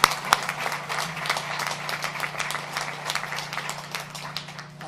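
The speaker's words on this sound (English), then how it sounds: "Let's give them another big round of applause." Workers and associates at the Honda plant in Alliston receive a round of applause during a press conference, scattered claps rising over a constant low hum, uneven and moderately loud, with a sharp clap near the start.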